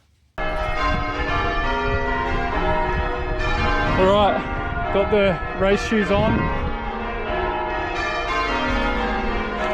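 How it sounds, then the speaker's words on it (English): Cathedral bells ring out continuously with rich, layered tones, fairly loud, while a person speaks over them, in Inverness. "With the cathedral bells ringing"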